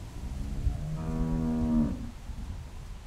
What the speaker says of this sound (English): How's the cow?